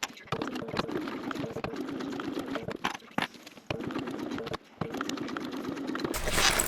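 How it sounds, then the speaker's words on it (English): A sewing machine basting across backpack fabric, stitching in steady bursts with short pauses between runs, close and fairly loud, with no one talking. "I'm going to go and baste across, then I'll repeat with the other side as well"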